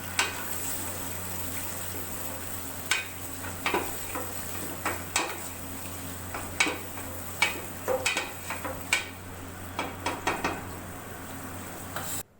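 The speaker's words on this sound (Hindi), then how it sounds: "बारीक कटी हुई प्याज शामिल करेंगे और इसे इतना फ्राई करेंगे कि वो गोल्डन ब्राउन हो जाए" Finely chopped onions fry in a pot for haleem. A utensil scrapes and clicks against the pan in a loose, repeated rhythm over a faint, continuous sizzle.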